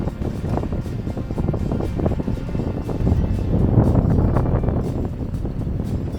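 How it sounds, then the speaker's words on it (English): Strong wind gusting in the low 20s knots across a sailboat under full sail at sea, a loud steady rush and rumble of wind and water with faint rhythmic knocking. "The wind got up, gusting in the low 20s at the moment"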